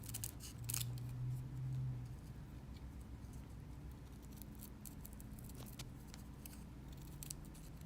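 Scissors snipping through felt along traced lines, a close, quiet series of small crisp cuts and rustles repeating irregularly throughout, with no voices.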